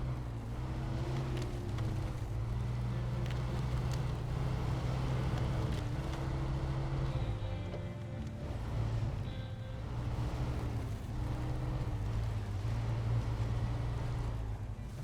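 Truck engine droning steadily in SnowRunner as the vehicle drives through darkness, a continuous low rumble with shifting pitch as revs rise and fall, loud and close with no talk.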